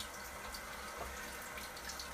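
Tap water runs steadily into a sink to soak a silver tip badger shaving brush, a faint, even wash of flowing water with no speech.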